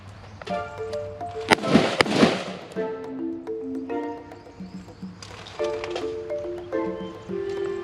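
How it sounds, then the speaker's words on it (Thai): Gunfire from a rifle shooting drill by Thai marine ranger recruits, heard as a dense cluster of sharp bangs in the middle, with tonal background music playing throughout. "สองนัดสองนัดยิง"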